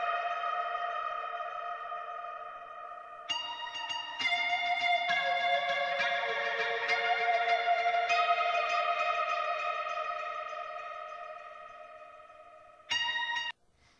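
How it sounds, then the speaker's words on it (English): A sustained synth-like tone carries a reverb fade effect. Its sound washes out into a lingering tail that slowly dies away, then a short burst returns near the end. "Sometimes I like reverb fades much better than filter fades or just simple volume fades"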